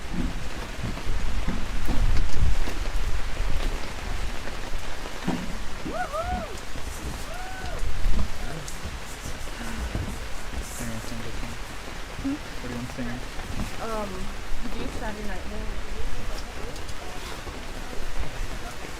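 Rain falling outdoors at a National Day of Mourning gathering, a dense steady hiss with low rumbling swells, heard under scattered voices and crowd sounds.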